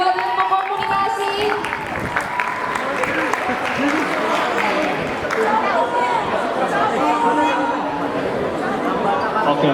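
An audience claps steadily for a volunteer at a university opening event at FISIP Undip, the applause mixed with lively crowd chatter and a voice over it throughout.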